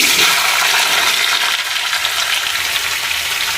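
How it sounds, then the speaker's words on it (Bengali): Potatoes dropped into hot oil in a pan, giving a loud, steady hiss and bubbling sizzle that holds evenly throughout with no talking. "কড়া গরম করতে দিয়েছি তেলের মধ্যে আলুগুলো দিয়ে দিচ্ছি"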